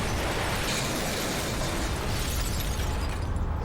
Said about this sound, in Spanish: 5 explosiones sacuden a Manhattan.